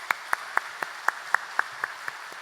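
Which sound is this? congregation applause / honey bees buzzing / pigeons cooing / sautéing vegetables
congregation applause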